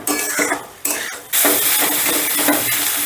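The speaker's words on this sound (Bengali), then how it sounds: "এবারে গ্যাসের আঁচটা বাড়িয়ে দিয়ে আমি শুকনো শুকনো করে রান্না করে নিচ্ছি।" Papaya stir-fried dry in a pan over a high gas flame, with loud repeated spatula scrapes and clanks against the metal over a steady sizzle.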